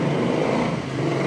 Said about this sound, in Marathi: गाड्यांचा खूप आवाज येतो.